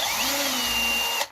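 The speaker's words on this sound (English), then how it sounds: "you see I can drill again just for your enjoyment" An electric drill boring a hole in a Eurorack module panel, a steady loud whine with a slowly shifting pitch that runs continuously and then cuts off abruptly near the end.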